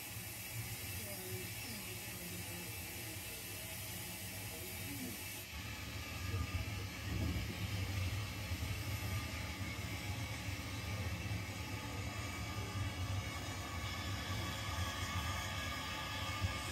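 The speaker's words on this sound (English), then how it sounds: "The Super D's driver slowly takes up the slack in the couplings prior to accelerating his train." A 0 gauge model Super D locomotive pulling a goods train slowly away, taking up slack in the couplings with quiet rolling rumble, clicks and faint hiss that grow louder midway as it gathers pace, heard from close by.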